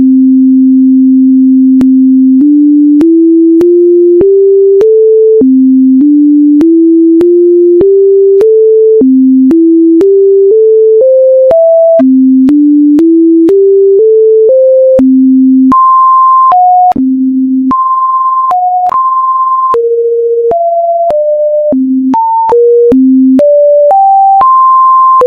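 A spliced sequence of pure electronic sine tones that starts at a 261.63 Hz Earth tone and steps up and down in pitch through many short held notes. The tones are loud, steady and continuous, with no voices.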